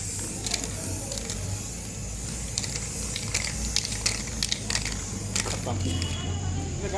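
A spray paint can hissing as it coats a Royal Enfield motorcycle silencer, a steady broadband spray with short sharper bursts throughout, while people talk nearby.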